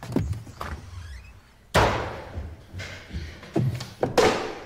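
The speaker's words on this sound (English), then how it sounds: "Don't bang the door." Heavy thuds and bangs of a door, one loud slam followed by a few more knocks and clunks, close by and uneven in rhythm.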